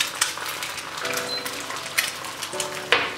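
An egg frying in hot oil in a pan after beef patties, a steady close crackling sizzle with a few sharp pops and faint clinks of a utensil against the pan.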